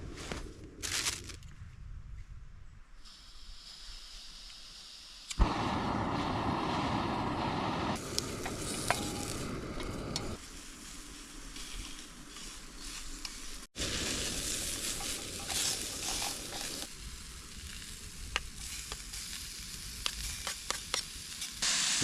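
Sausages and bacon sizzle together in a single pan on a camping stove beside a hammock setup, a steady close frying hiss with shifting intensity and occasional stirring scrapes, no talking.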